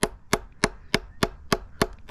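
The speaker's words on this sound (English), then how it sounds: "Try to keep all of your hammer blows right in the center." Eight evenly spaced, sharp hammer blows ring out on a copper spoon being shaped, crisp metallic strikes close by at a steady rhythm of roughly three per second.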